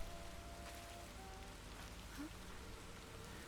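Rain in the Project Zero video game falls as a steady, soft hiss of drops on surfaces, faint and continuous, with a low tonal hum beneath.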